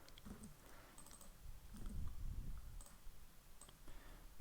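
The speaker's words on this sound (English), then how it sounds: "So hitting T again on my keyboard." Keys clacking on a computer keyboard while building a crypto price tracker app design in Figma, a few scattered presses at close range over a low background hum, with no talk.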